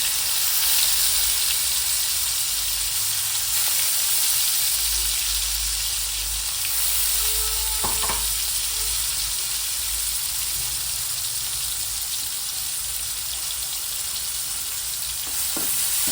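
Onion paste fries in a pan for brinjal masala curry, giving a loud, unbroken close-up sizzle with a single metallic clink of a utensil midway.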